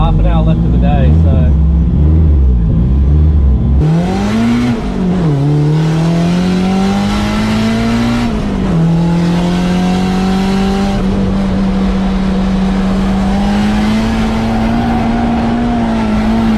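A Nissan S13 drift car with an SR20DET engine revs and accelerates on a track day, its loud, close engine note climbing and wavering in pitch through repeated throttle pulls before holding a high, sustained whine.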